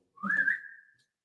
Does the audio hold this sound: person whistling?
yes